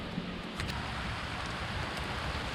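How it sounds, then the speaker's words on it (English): Steady rain falls outdoors at an off-grid homestead, a dense even hiss with faint drops tapping, and no voices. "It's starting to rain."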